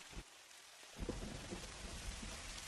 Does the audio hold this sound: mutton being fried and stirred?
no